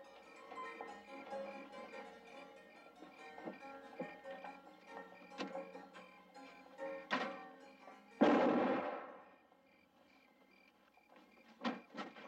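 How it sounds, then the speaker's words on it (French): A gunshot rings out in a Bonanza western TV episode: one loud, sharp blast with a brief echoing tail cuts through the background music, followed later by a couple of faint knocks. "D'où venaient les coups de feu?"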